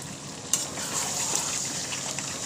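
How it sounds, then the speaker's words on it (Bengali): Chicken kosha frying in a pot makes a continuous loud bubbling sizzle, with a sharp clatter near the start and small crackles scattered throughout. "এই দেখো আমি এখন চিকেন কষা করছি"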